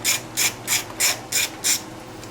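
A ratchet clicks close up while turning bolts on a Honda Foreman ATV, six evenly spaced raspy bursts in a quick steady rhythm.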